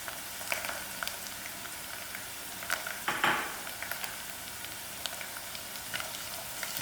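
Chilies, garlic and curry leaves frying in oil, a faint, even crackling sizzle with light scattered pops and one brief louder burst midway.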